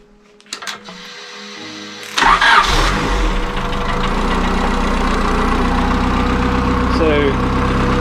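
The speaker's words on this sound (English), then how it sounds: "So yeah, here's the Mini. Let me start it up for you guys." A classic Mini fitted with a 500 BHP engine cranks and fires after a couple of seconds of quiet, then settles into a loud, steady cold idle with a rough, uneven note running to the end.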